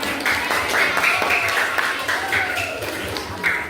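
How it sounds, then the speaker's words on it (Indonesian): A room of children claps together in a sustained burst of applause, moderately loud, with some voices mixed in. "Boleh kasih tepuk tangan buat Najla."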